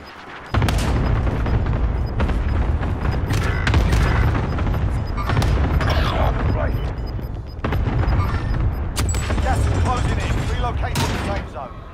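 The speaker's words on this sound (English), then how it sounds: "Enemy cluster strike incoming. Take cover." Heavy cluster strike explosions in Call of Duty: Modern Warfare pound almost without pause, a dense, loud barrage of booms and crackling blasts with a short lull partway through, while voices talk over the din.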